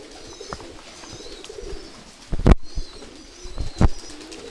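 Soft pigeon coos murmur in the background at a pigeon farm during feeding, broken by two loud thumping bumps close by.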